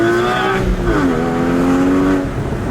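A 3.8-liter, 385-horsepower Porsche Cayman GT4 sports car engine revs loudly up close, a throaty roar that rises then dips and settles into a steady growl throughout.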